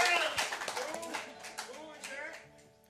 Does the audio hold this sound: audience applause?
yes